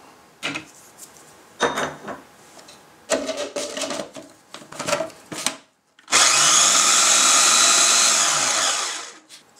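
A food processor whirs loudly and steadily for several seconds, blending vegan quiche filling, after a run of short knocks and scraping sounds up close.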